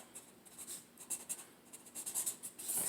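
Pen or pencil scratching across paper while jotting down a math calculation, a run of short quiet strokes with brief pauses, close and soft, with no voices.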